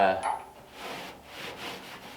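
A rag rubs hard over fresh, not fully dried black paint on a 1932 Ford coupe to give an aged look, making soft repeated swishing strokes at close range after a brief faint voice at the start.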